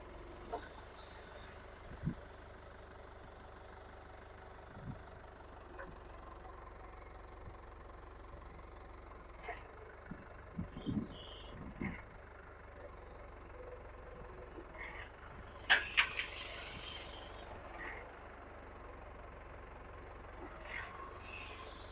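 Toyota 8FD30 3-ton diesel forklift with a 2Z engine and manual gearbox idles steadily at close range, a low continuous rumble with a few brief clanks and knocks, and someone talks over it.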